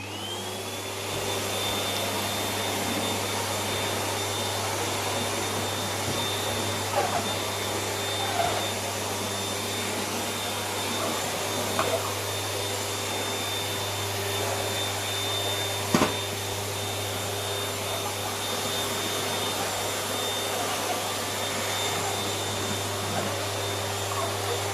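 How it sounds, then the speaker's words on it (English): A Bosch GL20 vacuum cleaner runs continuously with a steady, close drone and a high whine after spin-up, its pitch unchanging, with occasional small bumps and no speech. "we're going to be doing some vacuuming now"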